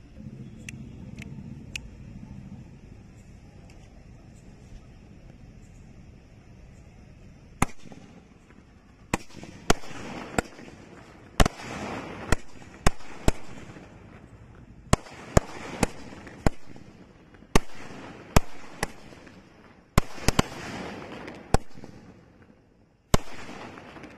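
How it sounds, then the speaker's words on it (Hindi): A 12-shot Sky Green Diwali firework cake fired outdoors, sending a rapid, irregular series of sharp cracks and bangs after a quiet stretch, each loud pop standing clearly above the low background. "ये 12 शॉट को जला के देखते हैं"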